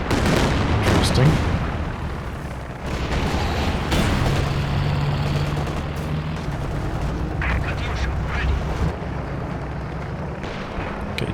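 Creeping barrage artillery fire rumbles in Company of Heroes 2, with dense booming blasts and crackling impacts rolling continuously, loud and layered, easing slightly toward the end.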